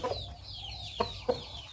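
Fighting cock clucking during exercise in a netted run pen, a few short, close clucks and squawks in quick succession over a quiet background.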